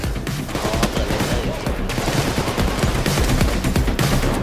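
Rapid bursts of automatic gunfire from the video game Payday 2, dense and loud throughout with brief gaps between volleys.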